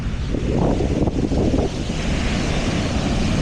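Big storm-driven ocean waves crash onto a beach with a continuous heavy roar, strong wind buffeting the microphone and rumbling loudly throughout, with surges of surf rising and falling.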